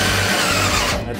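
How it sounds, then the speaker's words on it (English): A spot weld cutter in a power drill bores through the steel radiator support of a 1967 Ford Mustang, a loud, continuous close-up grinding whine that cuts off at the end. "I'm drilling the holes through the radiator support so I don't have to drill the holes through our new piece later."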